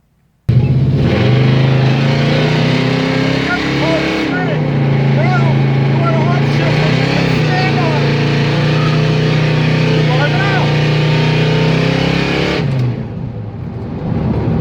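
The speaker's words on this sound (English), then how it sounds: "start your burnout in low gear" A car does a tire burnout in low gear, its engine holding a loud, steady roar at high revs with a broad hiss of spinning tires. It cuts off abruptly near the end, and a voice is heard under the noise.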